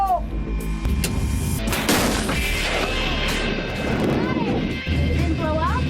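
A 37mm tank gun fires in a heavy blast followed by clattering impacts and rumbling debris, loud and close, with voices talking throughout.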